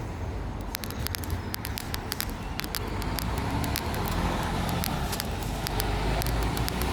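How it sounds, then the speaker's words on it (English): Steady traffic roars along a busy high street, with cars and lorries passing close in a continuous wash of engine and tyre noise, punctuated by sharp ticking transients. "It's a busy road this"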